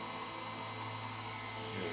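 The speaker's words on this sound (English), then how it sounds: "the blow dryer is on hot, so it will dry much faster" A blow dryer set on hot runs steadily while drying alcohol ink, giving a continuous airy whir with a low motor hum, faint and unbroken.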